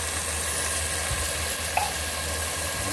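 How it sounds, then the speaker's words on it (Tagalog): Sardines sauté in a pan for cabbage with sardines, giving a continuous, even sizzle and frying hiss at close range, with a faint stir or clink partway through and no one talking. "Igisa na natin yung ating mahiwagang pangpalasang sardines."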